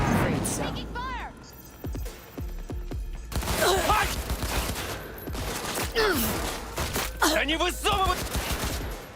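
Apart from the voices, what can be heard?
gunfire in a firefight, from the video game Cyberpunk 2077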